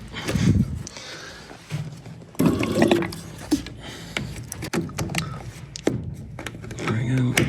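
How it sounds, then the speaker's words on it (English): Water flushed through a furnace condensate line gurgles and splashes in uneven bursts, with drips and knocks of handling nearby. "Best way is usually to flush it with water."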